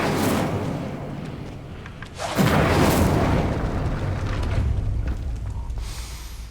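In Hogwarts Legacy, casting the Incendio fire spell gives a soft whoosh, then a deep booming burst that swells into a sustained roaring rumble before slowly fading.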